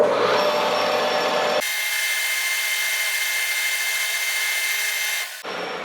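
A metal lathe cuts down a fuel T fitting for Keihin CVK carburetors, giving a loud, steady high-pitched machining whine and hiss that holds evenly for several seconds before cutting off abruptly.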